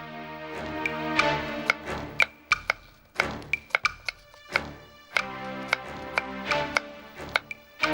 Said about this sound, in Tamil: அதுக்குள்ள காய்கறி நறுக்க ஆரம்பிச்சிட்டியா?